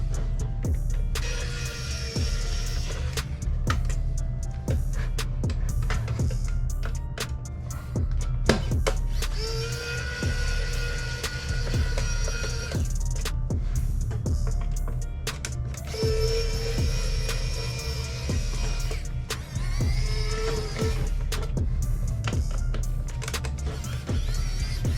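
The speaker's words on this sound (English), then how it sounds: "We're going to put in a Phillips bit into our driver and we're going to" Power driver with a Phillips bit backing out screws from an Xbox 360 FAT console, several short whirring motor bursts rising and falling over a steady low hum, close by.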